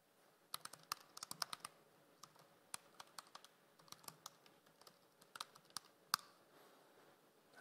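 Password typed on a computer keyboard: a quick, irregular run of light key clicks, close and fairly quiet, with short pauses between bursts and no talk.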